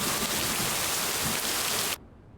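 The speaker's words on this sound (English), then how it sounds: "The rain is just too loud" Steady, loud rain in the video game Lake pours as a dense hiss for about two seconds, then cuts off abruptly into near silence.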